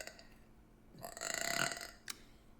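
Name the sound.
person burping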